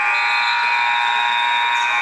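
A loud, sustained electronic buzzer blares continuously at halftime of a women's college basketball game, a flat harsh tone holding steady throughout.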